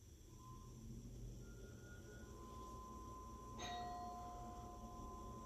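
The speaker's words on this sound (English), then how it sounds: "rang the doorbell" Zmodo Greet Pro smart wifi doorbell ringing, a soft electronic chime of sustained tones that step between pitches, heard faintly indoors over a low steady background hum.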